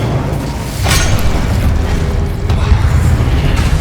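An Incendio fire spell is cast in the Hogwarts Legacy video game, a loud dense whoosh and rumbling burst layered over continuous game sound effects and a low droning background.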